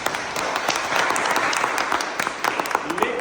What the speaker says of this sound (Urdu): خدا کے جلال کے لیے زوردار تالی لگائیں.